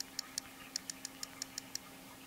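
A string of faint, crisp keyboard clicks from a first-generation iPod Touch speaker taps out at an uneven pace, about ten in quick succession against a quiet background.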